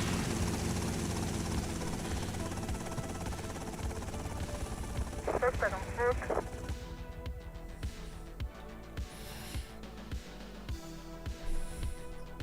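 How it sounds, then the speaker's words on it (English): A helicopter in the video game GTA Vice City drones steadily with a throbbing rotor and engine hum, game music and effects mixed in, and a short burst of another sound partway through. "I am flying Lance Vans in a helicopter back to the Vice City estate"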